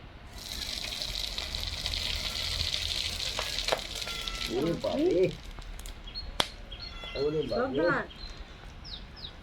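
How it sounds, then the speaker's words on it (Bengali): Whole cardamom, cloves and cinnamon fry in hot oil with a bright, continuous sizzle, and a voice talks over it partway through. "মশলা সুন্দর ভাজা হয়ে গেছে"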